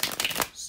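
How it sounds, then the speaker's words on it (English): Tarot cards being shuffled by hand, a brief burst of riffling and sliding card noise close to the mic. "just bear with me a second, guys, to shuffle the tarot cards"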